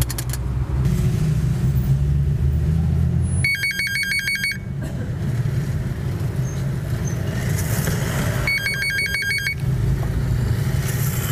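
A mobile phone rings loudly in two bursts of a repeating electronic ringtone, separated by a pause, over a steady low rumble like a car engine running nearby.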